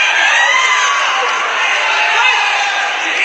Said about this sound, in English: The crowd are absolutely loving Alessio Simone.